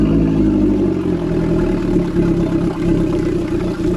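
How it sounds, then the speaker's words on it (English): A Suzuki DF90 outboard motor on a Whaler boat runs and warms up, a steady mid-pitched engine drone with light clatter and slight revving, close and loud without any voices. "So we're going to start the motor, let it run for a little while, get it nice and warm"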